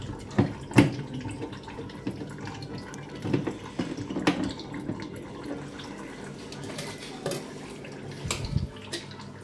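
Water runs from a purifier into its storage tank during installation, a faint steady trickle with scattered drips and light knocks, fairly quiet and without talk.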